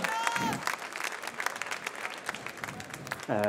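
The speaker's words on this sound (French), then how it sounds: "on applaudit les juges, on applaudit Nam" An audience at a coffee brewing competition claps loudly and steadily, a dense wash of applause from a crowd, with a voice over a loudspeaker briefly cutting in at the start and end.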